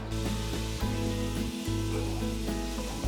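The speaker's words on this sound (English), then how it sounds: "The first thing we need to do is brown up some ground beef." Ground beef browns in olive oil in a pot with a loud, steady sizzle and frying crackle, close up and continuous, with a low hum underneath.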